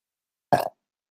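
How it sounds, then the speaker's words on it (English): A single short, loud burp bursts out close up in otherwise silent surroundings during a channeling event. "Sorry, I burped."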